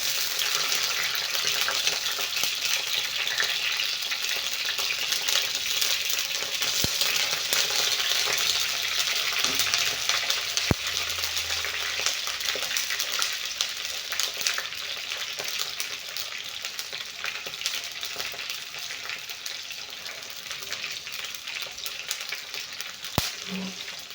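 Garlic and chillies sizzle steadily in a hot pan for chutney, a continuous close frying crackle with a few sharp clicks and no talking.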